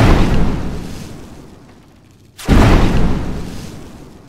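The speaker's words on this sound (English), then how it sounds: "that, my friends, is making a sweet explosion" A deep rumbling blast that slowly fades, followed by a second sharp, booming explosion that rolls off gradually, loud and close.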